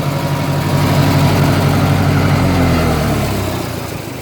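A Massey Ferguson 202 tractor engine runs steadily nearby, a loud, low, throbbing diesel rumble with an even beat that eases slightly toward the end.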